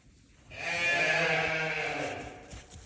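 A single sheep lets out one long, loud, wavering bleat at close range on a farm during lambing season, rising quickly and trailing off after about two seconds.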